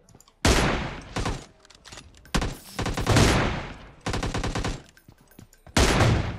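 Automatic rifle fire in the mobile shooter PUBG Mobile, loud close bursts and sustained volleys of rapid shots separated by short pauses, with no talk over them.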